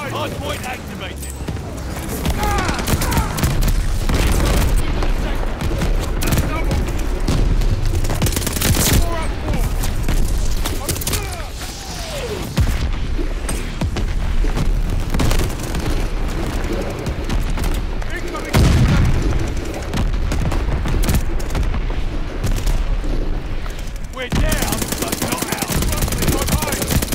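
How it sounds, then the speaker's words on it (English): Near-constant heavy battle din in Call of Duty Vanguard multiplayer, with enemy artillery shells and a friendly bombing run: loud gunfire, booming blasts and a deep rumble that runs almost unbroken, with announcer voices over the top. "Enemy shells coming in hot. Friendly bombing run on the way."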